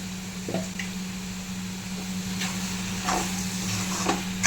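Chicken with onions and tomatoes being stirred in a pan, soft wet squishing and light sizzle against a steady stove hum, with a few scraping strokes and no talk over it.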